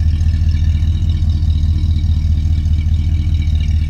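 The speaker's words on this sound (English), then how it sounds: "you can hear that exhaust note" The exhaust of a 1964 Oldsmobile Dynamic 88 holds a steady, deep, low rumble at an even idle, close and loud, with no voices.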